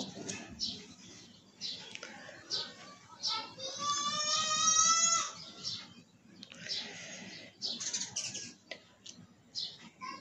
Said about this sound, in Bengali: তো বাইরে পাখি কিচিরমিচির ডাকতেছে,